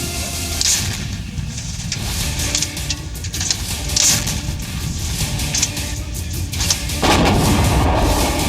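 Heavy artillery from an M777 ultra-light howitzer booms out again and again over a constant roar, each shot a loud, blunt blast with no voices.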